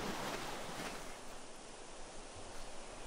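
Sea waves wash in a steady, soft broadband roar on the open sea in the Reprobates game, faint and continuous with a wind-like hiss and no speech.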